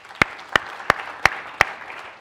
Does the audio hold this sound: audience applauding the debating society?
yes